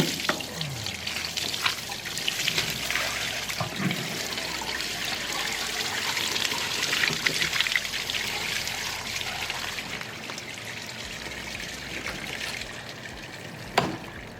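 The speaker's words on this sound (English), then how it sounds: "check out the disgusting water we sucked out of this carpet." Dirty water extracted from a car's carpet splashes and trickles steadily for several seconds, a continuous gurgling wash with a sharper splash near the end.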